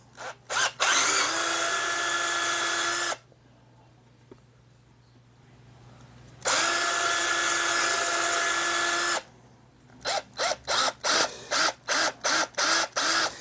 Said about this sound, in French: Ici, on perce un nouveau trou